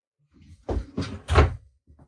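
Storage drawers in a 2022 Sabre mid-bunk fifth-wheel RV open or close with three close-set wooden clunks and slides, close and fairly loud, followed by a couple of faint taps.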